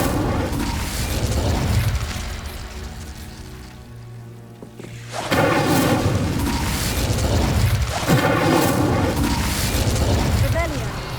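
Incendio fire spell cast in the video game Hogwarts Legacy: a loud whooshing burst of flame with a booming roar, dropping away briefly midway before a second sustained fiery blast swells back in.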